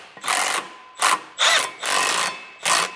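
A power tool, likely a drill or impact driver, tightens the flex disc bolts on a Mercedes C63 AMG driveshaft in five short, close whirring bursts with brief pauses between them. No one speaks.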